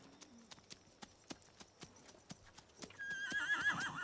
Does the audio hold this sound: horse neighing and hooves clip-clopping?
yes